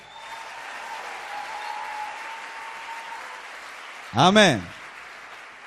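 A church congregation applauds at a sermon, a faint, steady patter of clapping running throughout, with a single voice briefly calling out near the end.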